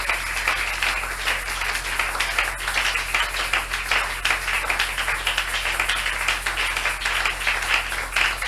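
Applause for the Lord fills a church in one steady, dense wash of clapping from a large congregation, close and unbroken throughout, with a low hum running beneath it.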